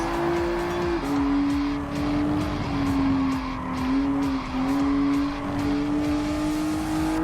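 A Nissan GT-R (GT Academy Version) slides through a corner in Gran Turismo Sport, a sustained wavering tire squeal riding over a steady engine roar for several seconds.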